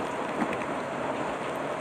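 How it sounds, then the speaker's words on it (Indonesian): Heavy rain pours down on a rider travelling by motorcycle through Sumenep regency, a dense, steady wash of rain and wind noise with no talking. "Hujan terus mengguyur"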